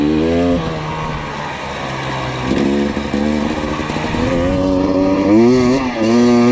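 An enduro motorcycle engine revs and labours in first gear while climbing off-road in Bosnia, its pitch rising and falling in repeated surges, loud and close throughout with no talk over it.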